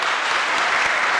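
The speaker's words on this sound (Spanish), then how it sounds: "Aplauso para la hermana." A church congregation bursts into steady, dense applause, many hands clapping together close by without voices over it.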